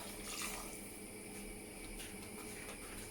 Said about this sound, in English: So in goes the rest of the stock.